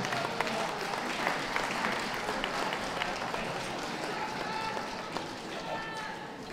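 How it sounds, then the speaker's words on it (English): Sustained audience applause at a championship dog show during the terrier group judging, a steady wash of many hands clapping in a large hall with an announcer's voice over it. "A round of applause for all those leaving the ring"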